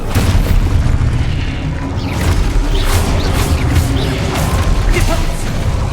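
A loud, sustained rumbling blast from an explosion spell in the video game Hogwarts Legacy, heavy low boom with crackling bursts layered through the whole stretch, close and dense.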